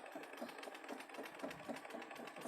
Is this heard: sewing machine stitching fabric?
yes